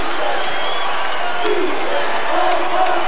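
Arena crowd at a 1996-97 college basketball game between the New Mexico Lobos and New Mexico State Aggies, a steady loud roar of cheering and whoops from the stands with scattered shouts rising and falling throughout.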